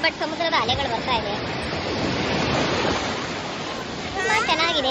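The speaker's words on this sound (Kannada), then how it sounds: "ಸಮುದ್ರದ ಅಲೆಗಳು ಬರ್ತಾ ಇದೆ" Sea waves break and wash onto a beach in a continuous roaring rush, close and loud, with a person talking over the surf at the start and end.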